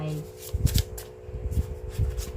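Tarot cards being shuffled in a couple of quick, soft riffling bursts close by, with someone speaking over them.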